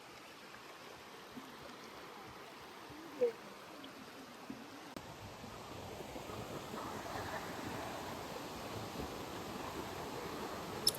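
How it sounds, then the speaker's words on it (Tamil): Distant Hebbe Falls gives a steady, broad rush of falling water with no voices, growing fuller and louder about halfway through. "இங்கே கிட்ட போக போக போக அந்த அருவியோட சத்தம் வந்து நமக்கு கேட்டுகிட்டே இருக்கும்."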